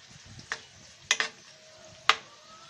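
Onions frying with salt in a pan are stirred with a utensil, giving three or four sharp scraping knocks over a quiet, faint sizzle.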